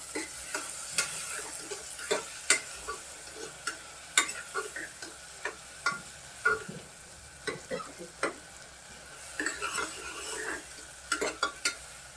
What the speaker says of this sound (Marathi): चांगलं परतून घ्यायचं त्यांना